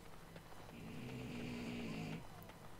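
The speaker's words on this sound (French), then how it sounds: "Et le chien qui ronfle." A dog snoring in the Dragon Age: Origins – Awakening video game, one long, low rumbling breath rising in the middle and stopping abruptly, quiet and close.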